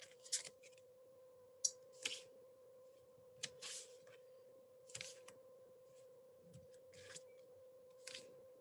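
Scissors cutting an opening in a paper slider card during a papercraft class: several short, sharp snips at irregular intervals, close and quiet, over a faint steady hum.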